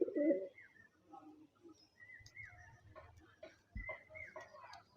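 Indian pigeons in a loft coo and flutter close by, with low throaty coos, soft wingbeats and scuffling, as a male chases a hen about to lay.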